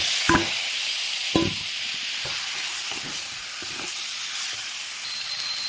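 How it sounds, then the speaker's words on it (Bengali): Chicken pieces dropped into a hot pan with fried ginger-garlic paste for a Bengali chicken curry give a steady close hiss and sizzle, with a couple of sharp clatters near the start and soft stirring scrapes throughout. "এখন আমি চিকেনটা ছেড়ে দেবো।"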